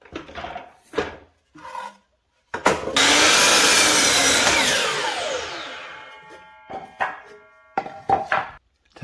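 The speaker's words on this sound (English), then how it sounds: "cut a board to length" A wooden board is hand-sawn to length in a basement home gym, a burst of rapid rasping strokes lasting several seconds, close and loud, set between quieter handling knocks and clatter before and after.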